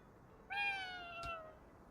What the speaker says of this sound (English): Was this cat meowing the Harry Potter theme?